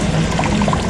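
Tamarind water is poured into a cooking pot, a steady, close splashing and gurgling stream that runs without pause for the whole moment, with no voices.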